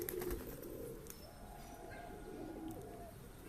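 Low, continuous cooing rises from a loft of mixed pigeon breeds such as Lakka, Madras, Napta and Andhra, a close, even murmur with a few faint higher chirps and no talking.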